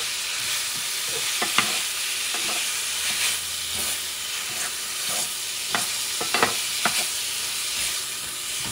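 Ground meat sizzles steadily in a hot pan while a utensil scrapes and breaks it apart, producing scattered clicks and taps over the continuous frying hiss.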